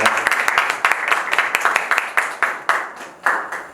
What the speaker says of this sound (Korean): 여러분 뜨거운 박수로 다 환영해 주시기 부탁드리겠습니다